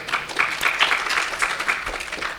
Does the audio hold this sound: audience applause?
yes